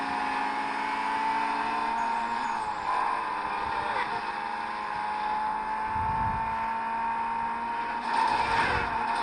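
Race cars in Need for Speed Most Wanted (2005) give a loud, steady engine drone that holds throughout, with a couple of brief rougher surges near the middle and end.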